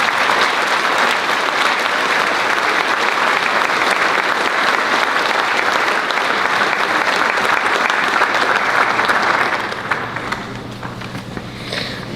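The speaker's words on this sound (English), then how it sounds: "just one great big round of applause" Loud, sustained applause from a large audience at a high school graduation ceremony, steady for about nine seconds before thinning out toward the end.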